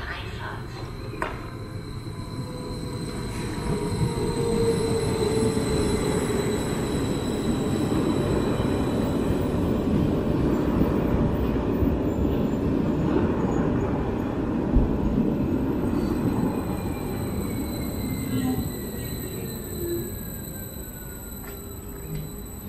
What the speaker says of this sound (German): Auf Gleis 1 fährt ein RB 61 nach Hengelo über Kirchhängern, Bünde, Osnabrück, Abfahrt 13:32 Uhr. Vorsicht bei der Einfahrt.